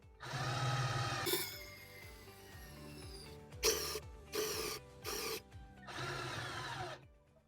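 Titanium 12V cordless drill whirs in several short bursts against metal tubing, bogging down and stopping each time as it stalls before the hole starts, close and loud with quiet gaps between.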